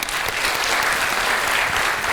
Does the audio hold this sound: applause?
yes